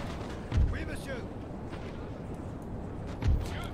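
Cannon and musket fire from a Napoleon: Total War battle, two deep booms rumbling under a steady roar of distant gunfire, with someone talking in German over the top.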